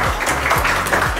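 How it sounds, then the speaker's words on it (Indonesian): Audience applause at an esports sponsorship press conference, a short burst of steady clapping from a crowd that fills the room at an even, fairly loud level without pause. "Boleh beri tepuk tangannya."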